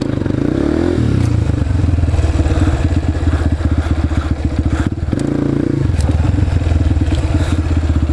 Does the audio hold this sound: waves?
no